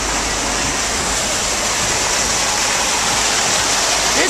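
Murky brown floodwater rushing steadily during Tropical Storm Debbie at the north end of Anna Maria Island, Florida, where fresh water mixes with salt; a loud, continuous broadband roar with no pauses.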